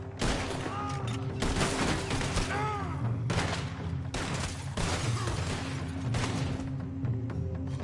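A Red Dead Redemption 2 shootout crackles with repeated gunshots and volleys over a steady background of game ambience and music, loud and dense throughout.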